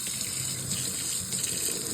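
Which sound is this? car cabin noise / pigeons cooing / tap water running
tap water running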